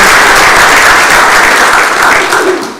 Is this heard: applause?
yes